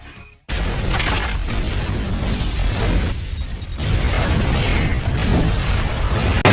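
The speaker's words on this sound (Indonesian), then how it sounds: "Penyamaran ledakan yang sempurna kan guys?" A film-scene blast, as an explosive set on a wall tears into a lift shaft, hits suddenly after a brief hush and roars on as a loud, sustained rumbling crash with churning debris for several seconds.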